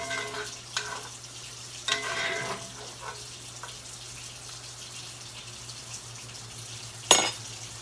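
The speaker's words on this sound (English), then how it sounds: "See, the tomatoes are starting to cook down." Fresh diced tomatoes cook down in a skillet with a soft, low sizzle, broken by a few light utensil clinks and one sharper knock near the end.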